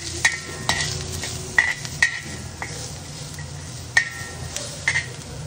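Drumstick leaves fry in oil in a pan, with a low sizzle under scattered stirring scrapes and light clinks of a utensil against the pan.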